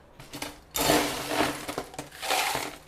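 Ice is scooped into a cup for a plant-based peach milk drink, giving bursts of crunching, rattling cubes, close and fairly loud, with no voice.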